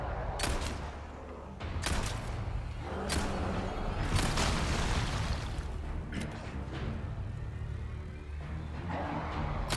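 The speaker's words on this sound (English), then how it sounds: "I'm getting sniped from somewhere up there." Sniper and other gunfire in the Resident Evil 4 Remake video game, with several sharp cracks standing out over a busy, continuous layer of game noise and rumble.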